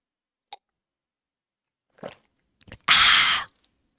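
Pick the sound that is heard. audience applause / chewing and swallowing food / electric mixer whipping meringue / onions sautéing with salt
chewing and swallowing food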